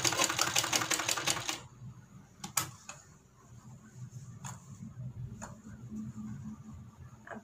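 Sewing machine stitching a seam on a sleeveless kurti, a rapid run of close mechanical clatter followed by quiet pauses and a few scattered clicks.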